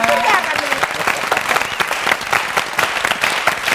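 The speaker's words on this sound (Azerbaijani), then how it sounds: "Əmrə Altun, alqışlar xahiş edirik." An audience at a game show breaks into sustained applause, with dense clapping that carries on steadily from start to finish.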